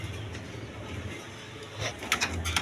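A pair of racer pigeons on a pigeon farm, a cream bar hen and a mealy cock, give soft, low intermittent coos amid light background clatter and rustling, growing a little busier toward the end.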